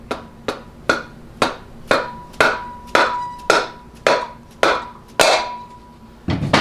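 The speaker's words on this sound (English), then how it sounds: "you may need to take a hammer to persuade it into the pocket" A hammer strikes metal about a dozen times in a steady rhythm, tapping a Ford C6 transmission part into its pocket, each tap sharp and ringing, close and clear with no talking.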